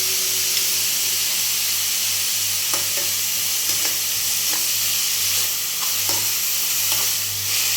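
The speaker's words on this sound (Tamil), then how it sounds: "நல்லா வதக்கிக்கலாம்." Ground garam masala paste with fennel and pepper sautéing in a pan for quail gravy: a continuous close sizzle and hiss, with soft stirring scrapes scattered through it.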